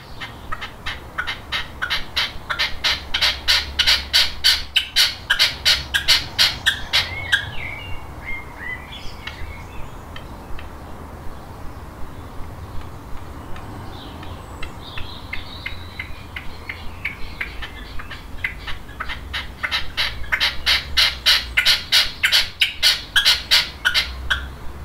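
A male red-legged partridge gives loud territorial calls, rapid chuffing bursts that build to a crescendo, fade, then return, set against a constant background of insect chirring.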